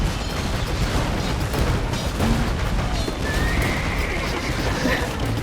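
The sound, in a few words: bombard cannons firing in a video game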